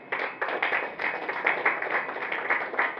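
A small audience at a regional youth project fair applauds with fairly distinct, rhythmic claps from a modest group, close and lively, without talk.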